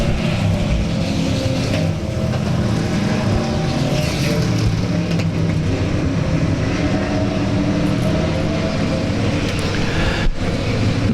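Race cars at South Texas Speedway roaring around the track after the green flag, a dense, loud, continuous engine drone that stays steady with no talk.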